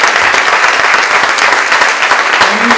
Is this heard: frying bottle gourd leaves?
no